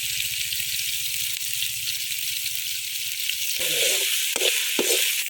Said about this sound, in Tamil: வெங்காயம் பச்சை மிளகா எல்லாம் நல்லா வணங்கிடுச்சு.